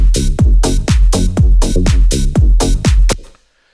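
Punchy tech house kick drums thump in a steady four-on-the-floor beat with a deep bass line and crisp hats on top, loud, ending abruptly.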